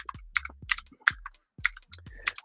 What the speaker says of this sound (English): so my typing's just super sloppy